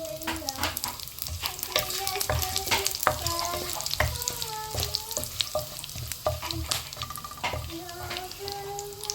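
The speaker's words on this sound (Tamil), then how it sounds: "கருவேப்பிலை தேவையான அளவு போடுறோம்" Curry leaves crackle and fry in a pan for mutton curry, with busy sizzling and frequent stirring scrapes, close up and continuous throughout.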